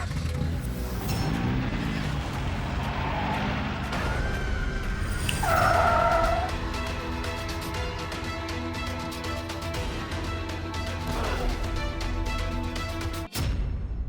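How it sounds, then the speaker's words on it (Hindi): A car engine runs steadily and then cuts out, stalling partway with a brief whine and a sharp drop before falling quiet, with no talk over it. "अरे गाड़ी क्यों बंद हो गई?"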